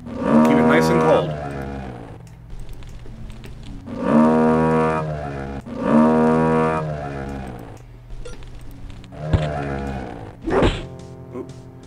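In the Return to Zork video game, a cow moos loudly several times while being milked, long low drawn-out bellows with brief whacks and swishes between them.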